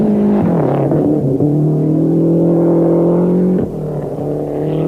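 Rally car at the 1991 World Rally Championship in New Zealand screams past at speed, a loud, close engine note holding high revs, dropping in pitch as it passes, then easing off.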